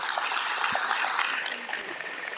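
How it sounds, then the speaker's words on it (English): Round of applause for the program directors at an anti-crime and social cohesion summit, a broad, steady crowd clapping that fills the whole stretch and eases slightly toward the end. "Can we give our program directors, as from yesterday till today, a big round of applause?"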